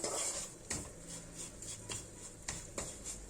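Corn flour is stirred and toasted in melted butter in a pot, with a spoon scraping and clinking against the pan at irregular intervals over a faint low sizzle.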